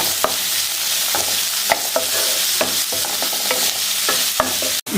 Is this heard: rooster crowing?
no